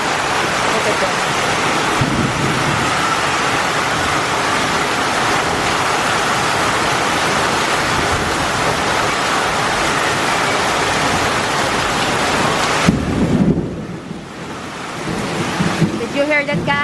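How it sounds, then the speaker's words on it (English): Heavy rain pours steadily in the Philippines during a flooding day at a small sari-sari store, a loud continuous wash of water that thins briefly near the end, with no talk over it. "Now the rain started again."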